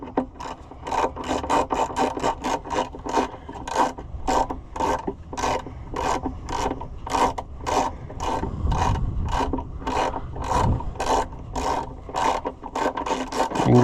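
A ratchet handle being worked while repairing a White 700 tractor, giving a steady run of sharp, evenly spaced clicks close by with a rasping, filing quality and a low mechanical rumble underneath.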